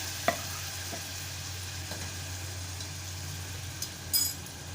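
A ground masala paste for a Malvani matar samosa filling fries in a pan under a steady hiss and hum, broken by a few faint scrapes of the spoon.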